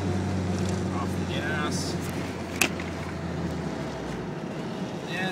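Steady, droning road noise from TreadWright Guard Dog tires rolling on pavement, a broad hum that holds through the whole stretch while someone talks briefly over it.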